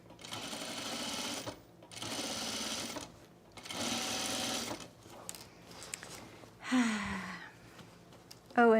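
A sewing machine fitted with an invisible zipper foot runs in three steady bursts of fast, close, rattling stitching, each about a second and a half long and separated by brief pauses. It is followed by quieter handling noises and a short vocal sound.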